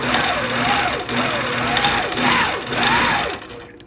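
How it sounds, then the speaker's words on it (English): A domestic sewing machine stitches in a loud, close, continuous run, its motor whirring in repeating rising and falling cycles for a few seconds before trailing off at the end. "we're going to turn our machine on and just do some stitches"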